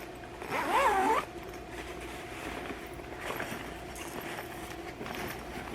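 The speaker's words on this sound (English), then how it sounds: "So I'm gonna open it. It has the double zipper." A quick zipper pull rasps open near the start, followed by quieter rustling and handling of a bag.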